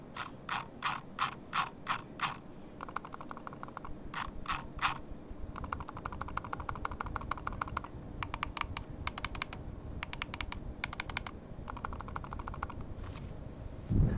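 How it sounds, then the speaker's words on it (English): Clicking from the silent mechanical switches of a Razer Pro Click Mini mouse, with quick sets of sharp clicks alternating with soft rattling runs over a steady low hum, close and fairly quiet. "The mouse features silent mechanical mouse switches and it's just really awesome."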